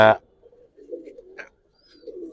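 Male Dubaj pigeon in a loft giving soft, low cooing calls in short pulses after a brief sharp knock, with quiet gaps between.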